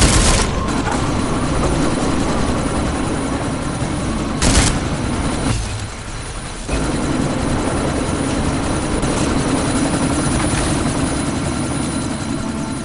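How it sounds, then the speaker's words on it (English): A helicopter in the video game Deus Ex drones loudly and steadily, its rotor and engine roar filling the scene, broken by a couple of sharp bangs and a brief dip partway through. "you need to disable that chopper"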